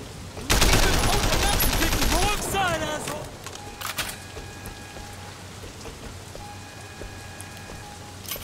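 Automatic gunfire rattles in the open-world game Sleeping Dogs, a dense rapid burst lasting about two seconds, then fading into a hissing, rain-like ambience with faint scattered pops.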